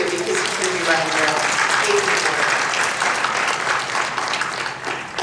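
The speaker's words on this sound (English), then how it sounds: "So you can clap for him too" Sustained applause from a convention panel audience at WonderCon, a steady, dense roar of many hands clapping for the whole stretch, with faint voices mixed in early on.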